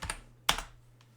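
A few crisp keystrokes as a password is typed on a computer keyboard, with one louder tap partway through, close and clear in an otherwise quiet room.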